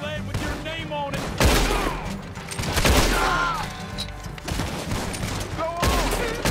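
Gunfire in the online Western video game Red Dead Online, with repeated shots and impacts scattered through the clip under a game soundtrack and voices, moderately loud.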